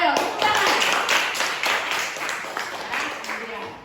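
A classroom of students clapping together in response to their teacher's cue, dense continuous applause that fades slightly toward the end, with some voices mixed into the clapping.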